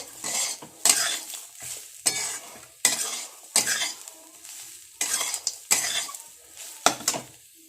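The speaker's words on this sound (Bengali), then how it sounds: "আমি ভালো করে এটা ভেজে নেব।" Repeated scraping strokes of a spoon stirring dry semolina as it roasts in a pan, about one every second, with a faint sizzle underneath; no voices.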